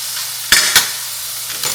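Mushrooms sizzle steadily in a pot, with a few sharp scraping stirs of a spoon near the start and again at the end, close and moderately loud with no voices.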